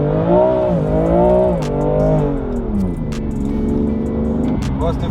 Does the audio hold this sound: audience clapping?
no